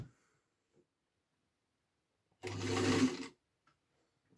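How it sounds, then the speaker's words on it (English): A sewing machine stitching two pieces of fabric runs in a single short burst of about a second, close and clear between quiet pauses. "We've got a couple of bits of fabric, and we're going to just see if it stitches."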